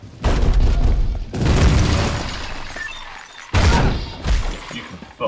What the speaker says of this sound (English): That was a hell of an explosion, though.